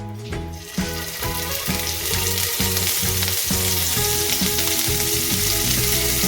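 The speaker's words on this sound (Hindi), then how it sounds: "अब मैं इसमें पनीर के क्यूब्स डालना ऐड करूँगी।" Paneer cubes fry in hot oil over a high gas flame for a Dhaba-style methi malai paneer, giving a loud, steady sizzle that swells after the first second, with stirring clatter throughout and no talking.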